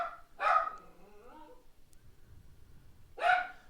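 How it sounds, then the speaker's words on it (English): A dog barks twice in the background, two separate loud woofs spaced a few seconds apart with quiet between them. "My apologies for the dog in the background"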